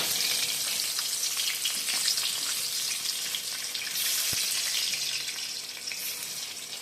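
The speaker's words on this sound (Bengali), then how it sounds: "তিনটে তিনটে করে আমি ভেজে নিচ্ছি" Pieces of catla fish frying in hot oil in a kadai for a doi katla dish, giving a steady, close, dense sizzle throughout with a brief faint knock partway through; no talking.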